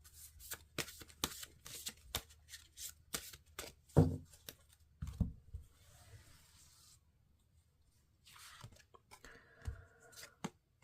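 Deck of I Ching divination cards shuffled by hand at a tarot and I Ching reading, a rapid run of crisp papery riffles and taps, close and clear with short pauses and no talk.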